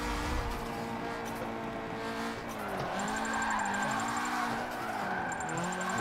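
In the video game Forza Motorsport 7, a Nissan S15's engine revs rise and fall as tires squeal in long skidding slides at Maple Valley, a steady loud drifting run with no talking.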